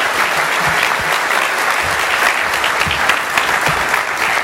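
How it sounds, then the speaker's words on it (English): A conference crowd applauding after lightning talks: dense, sustained clapping from many people throughout, loud and even, with a few sharper claps standing out. "Let's give a round of applause to all of our speakers"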